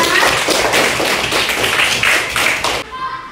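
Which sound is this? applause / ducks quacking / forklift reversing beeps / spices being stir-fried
applause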